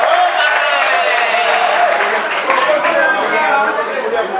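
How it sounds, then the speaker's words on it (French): An audience at a formal ceremony applauds the guest of honour with loud, steady clapping that lasts throughout, mixed with crowd murmur and voices. "Je voudrais qu'on l'acclame encore une fois."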